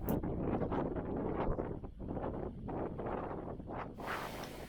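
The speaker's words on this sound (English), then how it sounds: "very windy Mount Wellington" Strong gusting wind buffets the microphone on Mount Wellington above Hobart, Tasmania, a loud, continuous roaring rush with surging swells across the whole clip.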